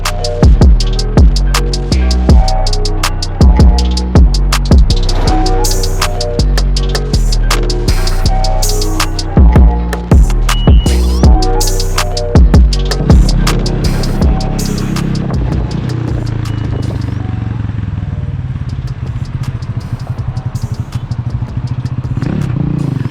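Motorcycle riding at normal speed on a Jamaican highway, its engine suspected of failing, with a loud, close, throbbing drone and rhythmic mechanical clattering that later smooths into a steady hum and wind rush.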